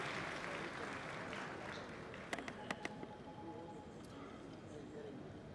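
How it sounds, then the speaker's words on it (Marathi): Applause from an audience at a Marathi event fills the clip as a steady, fairly faint wash of clapping, with a few sharp louder claps standing out near the middle. "जोरदार टाळ्या एकदा क्षितिज दाते साठी"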